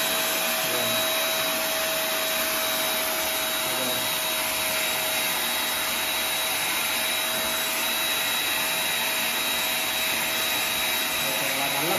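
An electric paint spray gun runs steadily for the whole stretch, blowing air in a loud, constant broadband hiss with a thin whine on top, close by and with no talk over it.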